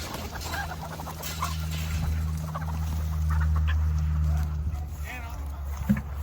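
Chickens cluck and murmur close by while being fed whole corn and sunflower seeds, over a low steady hum, with occasional scratching and pecking sounds.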